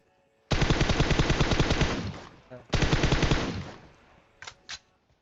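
Automatic fire in PUBG Mobile, with two long, loud, rapid bursts of machine-gun shots separated by a short gap, then two brief single cracks near the end.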